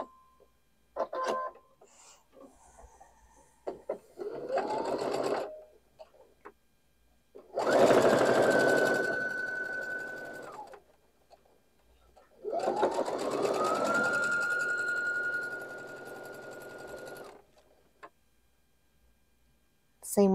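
Sewing machine stitching quilt block pieces for a Whirlwind block: three bursts of motor whir that rise in pitch as they speed up, the later two longer and steady, separated by quiet pauses and small clicks, close and prominent.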